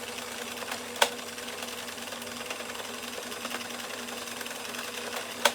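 Motorized Addi knitting machine with its crank turning at about three turns per second, a steady mechanical whir with faint rhythmic clatter and two brief sharp clicks, close and fairly quiet.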